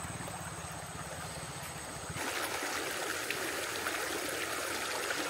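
A river flowing below a campsite in Tanay, a steady broadband rush of moving water heard from a distance, growing fuller and louder partway through with no voices over it.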